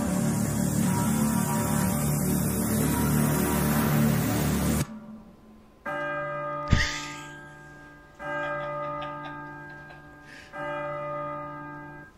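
Slow, ringing bell tones chime over a soft instrumental backdrop, with sustained resonant notes fading between strikes after a louder musical passage.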